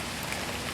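Rain falling steadily during the May rainy season in Chiapas, a dense, even hiss of drops close by, brief and moderately loud, with no voices.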